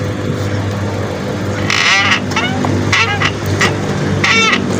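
Rattling, squeaky knocks from a faulty monoshock on a Honda RS150R motorcycle, several short creaking bursts over a steady background hum, moderately close.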